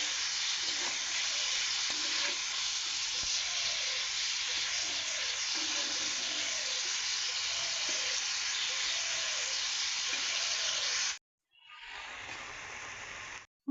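Cumin powder, turmeric, salt and ground spice paste fry with eggplant and fish in a small kadai for a fish curry, giving a steady loud sizzle and hiss with faint stirring scrapes before a brief drop and resumption.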